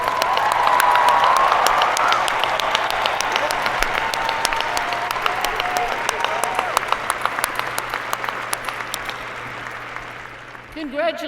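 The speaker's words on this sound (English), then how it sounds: "One more round of applause for all of our graduates." A large crowd at a winter commencement ceremony applauds the graduates with steady, loud clapping that carries a few cheers early on, then slowly thins into individual claps.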